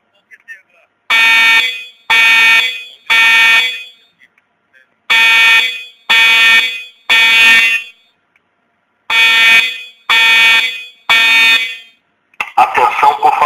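A fire alarm in a school building sounds during an evacuation drill: three groups of three loud, steady electronic horn blasts, each about a second long with pauses between, followed by a burst of noise at the end.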